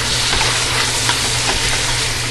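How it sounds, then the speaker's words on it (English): Vegetables sauté in a pan for Brunswick stew, a dense, even hiss of sizzling that holds steady and fairly loud for the whole short stretch, with no one talking. "I'm going to saute these"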